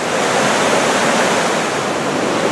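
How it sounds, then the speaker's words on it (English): A waterfall on Sweetwater Creek along the Red Trail in a state park roars close and loud, a dense continuous rush of falling water with no voices. "Let you enjoy the raw power of water."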